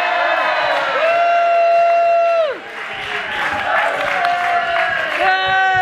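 A theatre audience at an outdoor park staging of A Christmas Carol cheers, with drawn-out shouted voices rising and falling over a loud crowd roar, close and lively throughout.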